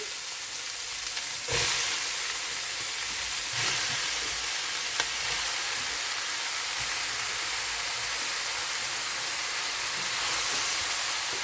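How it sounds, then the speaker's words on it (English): Sausage sizzles steadily in a hot pan for a Creole sausage bake, a continuous loud frying hiss with a few brief stir clatters, no talking. "What you're going to do is throw the sausage in."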